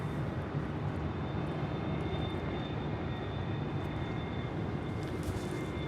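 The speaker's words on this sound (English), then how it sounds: "Coming in from JFK, this is JetBlue Flight 2123 in this A321." JetBlue Airbus A321 arriving at LAX from JFK, its jet engines a steady moderate roar with a faint high whine, heard at some distance and continuous throughout without talk.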